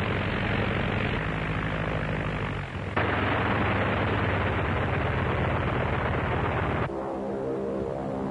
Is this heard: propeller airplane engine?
yes